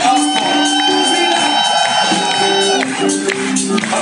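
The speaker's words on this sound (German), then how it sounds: "Ein großer Applaus geht natürlich auch an das Spektrum hier." A concert crowd at the Spectrum in Augsburg, during a show, applauds and cheers loudly and steadily, mixed with sustained tones from the band throughout.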